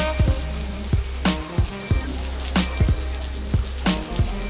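Rain falling steadily outdoors as a dense, constant patter, with several louder drops or knocks landing close by at irregular moments over the wash.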